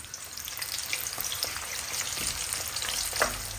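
Chopped onions sizzling and crackling in a cup of hot cooking oil for a chicken curry, a steady close frying hiss with scattered pops and the occasional scrape of a wooden spoon.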